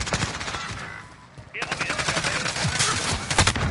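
Rapid video-game gunfire crackles in a team tournament match, with dense bursts of automatic shots that drop off briefly, then return louder and keep rattling close.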